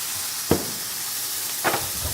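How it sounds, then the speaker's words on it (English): Sausages browning in a pan for gumbo, a steady broad sizzle with two brief louder clinks or stirs cutting through. "sausages are getting nice and brown"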